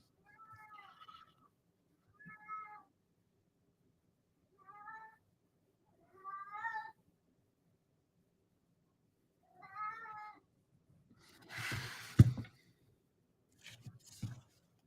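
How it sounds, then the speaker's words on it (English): A cat meows repeatedly in short, plaintive cries spaced a couple of seconds apart, fairly close, followed by some rustling and bumping noises near the end. "Stop the meowing and come in then."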